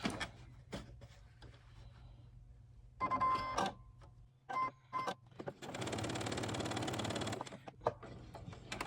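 A sewing machine stitches a seam on an 18-inch doll dress, running in short separate bursts and then one longer steady whir of several seconds, close and clear with no talking.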